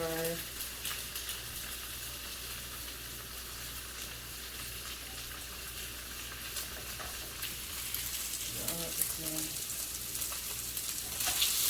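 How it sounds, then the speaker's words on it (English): Eggs sizzle and fry in a pan with rice while being scrambled, a steady close crackle with faint stirring scrapes throughout and no talking. "Scramble the egg."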